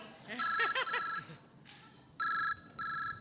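A mobile phone rings during a comedy sketch, its electronic tone sounding in two or three bursts close by, with people talking over the first part.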